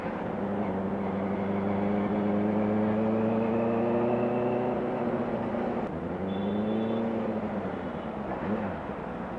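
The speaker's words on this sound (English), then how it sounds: "There's a considerable amount of engine braking on this bike." A 2018 Benelli 600i ABS motorcycle engine on the road holds a steady, loud drone, then its pitch drops and swoops as the throttle closes for engine braking, and it picks back up near the end.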